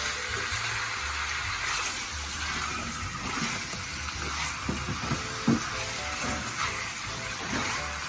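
Pork spareribs for afritada sauté in a hot pan, giving a steady close sizzle and crackle with occasional louder pops and scraping stirs throughout, and no voices.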